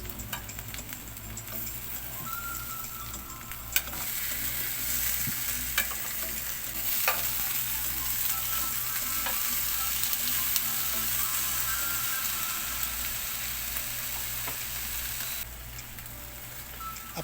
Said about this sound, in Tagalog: Flip on the other side and cook for another 10 minutes.